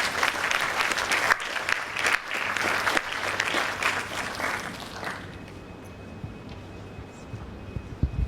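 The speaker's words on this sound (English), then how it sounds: "can we give a round of applause for our guest speaker" Audience applause for a guest speaker, the Deputy Registrar, at a College of Medicine seminar in Sierra Leone, a dense round of clapping filling the room for about five seconds before fading into quiet room tone with a few scattered claps.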